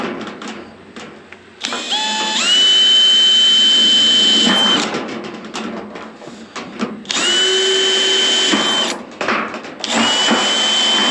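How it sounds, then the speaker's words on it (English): A power drill with a hole saw and pivot whines up to a high steady pitch as it cuts through metal porch ceiling panel, stops briefly, then runs again in a second long burst, loud and close. "drill a hole, put the pivot in the hole, and cut it out"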